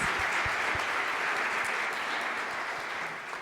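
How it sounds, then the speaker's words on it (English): Audience at a science conference session applauding, a dense, even patter of clapping from many hands that holds steady and fades slightly toward the end, with no talk over it. "if we can just give everybody a round of applause"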